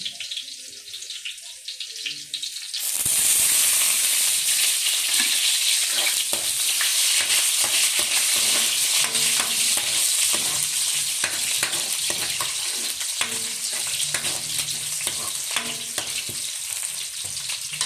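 Sliced onions hit hot oil in a pan and sizzle loudly and continuously, with repeated scraping stirs of a spatula over the frying.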